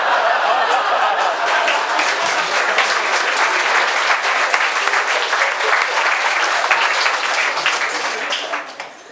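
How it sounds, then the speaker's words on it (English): Loud, sustained applause and clapping from a large audience, with some laughter mixed into the dense crowd noise, holding steady for several seconds before fading out at the end. "you were clapping the death of a woman"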